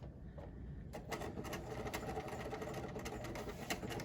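A sewing machine set to a 2.5 stitch length stitches an apron strap, starting at the end: a steady, fast mechanical whir with rapid needle ticking, close by and continuous, with no talking.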